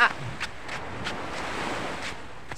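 Surf washes steadily onto a sandy seashore under an overcast sky, a continuous broadband roar of waves with wind buffeting the microphone and occasional soft thumps.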